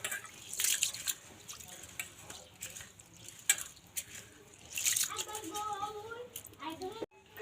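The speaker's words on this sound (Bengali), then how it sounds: "তার আগে চালটা ধুয়ে নিই।" Rice being washed by hand in water makes faint, intermittent swishes and splashes under ongoing talk.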